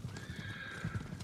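Horses in the video game Ghost of Tsushima whinny with a sustained neigh over steady clip-clopping hooves, moderately loud against faint game ambience, with no talk.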